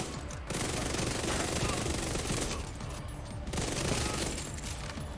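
Vector submachine gun in Division 2 unloading long, very rapid automatic bursts, dense and loud with a brief gap between volleys and a short lull near the end.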